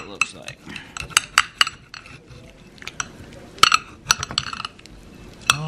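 Metal knife and fork clink and scrape against a plate while cutting into a rested grilled steak, in irregular close taps and bright clinks with quiet pauses between.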